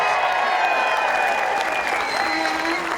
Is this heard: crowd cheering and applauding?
yes